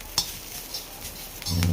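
Roasted coconut with ginger, garlic and coriander is lightly sautéed in a pan, making soft, faint sizzling with a few brief utensil scrapes and taps, followed by a low steady hum near the end.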